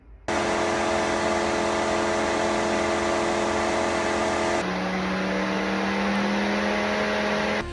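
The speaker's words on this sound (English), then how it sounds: "the fan in the Jeep Grand Cherokee 4xe spins up and it's a little loud" Cooling fan of a Jeep Grand Cherokee 4xe spinning up while charging on a level 2 home charger, a loud, steady whooshing whine with a tonal hum that shifts pitch midway, continuous and close.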